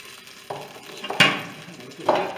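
Beef pieces brown in olive oil in a pressure cooker pot under a low sizzle, broken by several sharp scraping and clattering stirs of a utensil against the pot.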